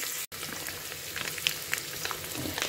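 Onions sautéing in oil in a pan for tomato bath, a steady close sizzle and crackle running throughout with a few brief pops and one short dropout near the start.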